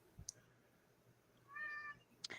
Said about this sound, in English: What's up with your cat, dude?